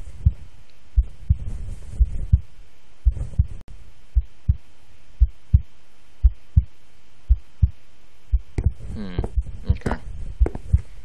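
A character's heartbeat in a horror video game thumps steadily in close, regular double beats through the whole stretch, with a player's voice breaking in now and then between them.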